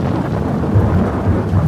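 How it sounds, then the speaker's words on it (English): Deep rumbling thunder from a close lightning bolt during a storm, a loud, continuous low roll with rain-like hiss and no talking. "This last bolt of lightning was close, very close. It flashed bright, almost blinding me, and its thunder rattled the floorboards of the old shop."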